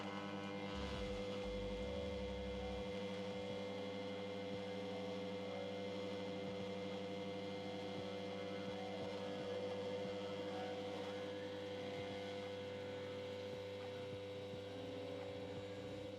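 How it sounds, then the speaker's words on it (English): An Elektra Verve espresso machine pulls a shot, its pumps giving a steady, fairly quiet mechanical hum and buzz that runs on evenly throughout. "And now the pumps are activated."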